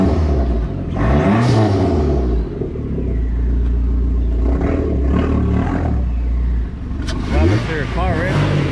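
A car engine revs and roars close by with loud intake noise, rising and falling in pitch several times, with a person talking over the noise.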